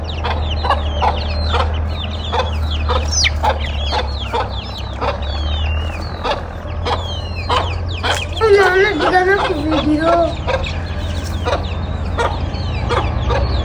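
Fighter chickens and roosters on a farm cluck and squawk in loud, repeated bursts during a scuffle, with one longer rising call near the middle, while people talk close by.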